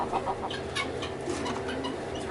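Rusty the rooster, kept among other farm animals, gives repeated clucking calls at close range against a steady outdoor background.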